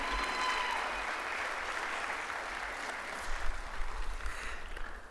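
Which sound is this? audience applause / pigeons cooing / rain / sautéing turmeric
audience applause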